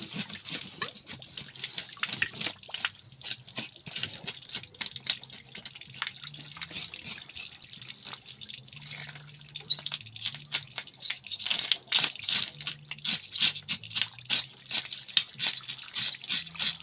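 Tap water runs continuously into a kitchen sink while cooking at home, a loud, steady splashing stream that fills the whole stretch with faint background sounds beneath it.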